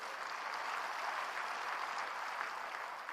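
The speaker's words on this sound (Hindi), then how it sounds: "फिर से ताली दीजिए आज।" Sustained audience applause at an Amway celebration event, a steady dense patter of many hands clapping at moderate distance, even in level throughout with no voices over it.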